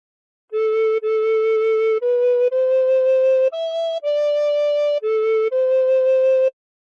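A recorder plays a slow melody of "House of the Rising Sun" in clear, sustained notes, each held about half a second to a second, alone and close.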